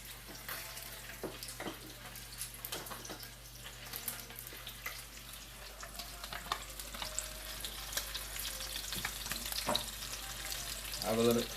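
Fish fries in a pan with a lively, close sizzle and crackle, broken by scraping and stirring knocks, growing a little louder toward the end.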